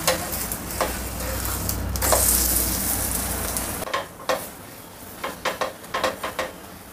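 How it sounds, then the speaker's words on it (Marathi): Thalipeeth frying in a pan over a medium gas flame, a steady loud sizzle for the first few seconds that drops off sharply, followed by scattered scraping and clicking as the flatbread is shifted and flipped. "गॅस मी मिडियम ठेवलेला आहे. त्याचा दुसरा एक थालीपीठ मी लावून घेते इथे."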